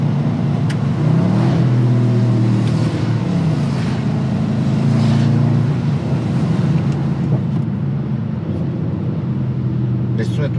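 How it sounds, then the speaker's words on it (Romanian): A deep, steady Range Rover SVR engine rumble runs loud throughout, with a low throaty drone and slight rises in revs. "Deci sunetul face absolut toată treaba la mașina asta."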